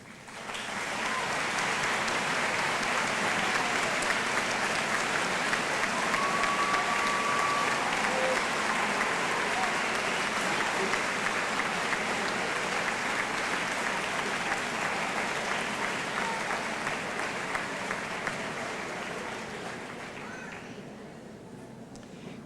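High school graduates applauding their parents at the Chaska High School 2003 graduation ceremony: a large crowd's sustained, dense clapping that runs steadily for about twenty seconds, then thins and fades out at the end.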